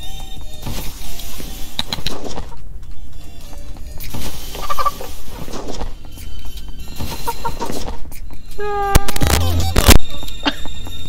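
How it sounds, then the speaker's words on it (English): Odd, warbling chicken clucks from the ragdoll physics game Ragdoll Universe, heard in choppy bursts mixed with other game noises and a sharp flurry near the end. "the chicken is so weird"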